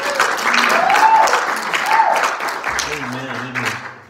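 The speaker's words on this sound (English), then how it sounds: "Everybody give the Lord a hand clap." Church congregation clapping for the Lord at the close of a sermon, a dense wash of applause throughout with voices calling out over it.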